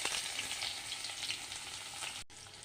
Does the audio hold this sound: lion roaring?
no